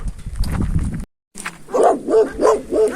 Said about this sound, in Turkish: Baya bir köpek çıkmış arkadaşlar o piyasaya.